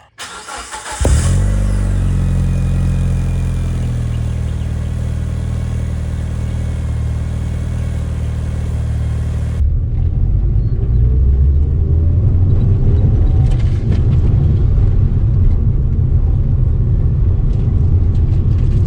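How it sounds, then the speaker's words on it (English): A Mitsubishi Lancer Evolution V engine with a repaired exhaust cranks and fires into a loud, rumbling cold-start roar, holding a high steady idle before the pitch drops and settles into a deep, throaty rumble. "Let's do a cold start now that the exhaust is fixed."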